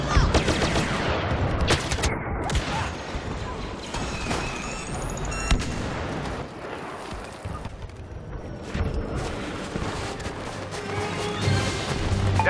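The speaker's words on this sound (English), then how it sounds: "Airstrike incoming." Airstrike explosions crash and boom during a Hoth walker assault battle in Star Wars Battlefront, dense and loud amid rapid gunfire and battle noise, with several heavy blasts in quick succession.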